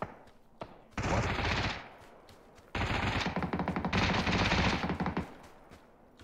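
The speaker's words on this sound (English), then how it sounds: "You heard the shots behind us." Automatic gunfire in PUBG on the snowy Vikendi map, two long loud bursts of rapid shots, the second longer with distinct rattling reports, separated by a short lull with faint background sounds.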